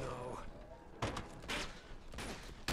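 Gunfire in Uncharted 2: Among Thieves sounds as several short bursts of shots over a busy game soundscape.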